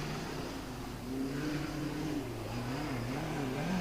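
A USAC midget race car accelerates hard during qualifying at Ventura Raceway, its engine holding a loud, steady drone that climbs and wavers in pitch through nearly four seconds, alone without talk.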